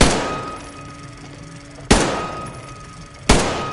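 Single loud gunshots in a video game, one at the start and two more spaced about a second and a half apart, each a sharp crack decaying into a short echoing tail.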